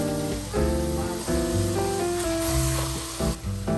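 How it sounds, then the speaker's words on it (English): Ground turkey with onions and garlic cooking in a large skillet. A close, steady sizzle continues throughout under a louder tonal background. "Start by cooking the turkey in a large skillet along with onions and garlic."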